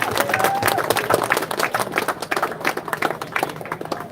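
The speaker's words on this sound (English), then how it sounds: "everybody give yourself a round of applause for turning up" Crowd applause at an outdoor protest in Broadstairs, dense, steady clapping from many people close by, lasting a few seconds without pause.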